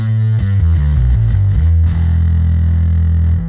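Darkglass Anagram bass pedal on its Distortion Loader preset: a loud, thick distorted bass line with a few quick plucked notes, then a long sustained low note ringing on alone.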